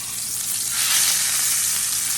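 A steak sears in a hot pan just after being flipped, giving a loud, continuous hissing sizzle that swells slightly midway, heard alone without speech.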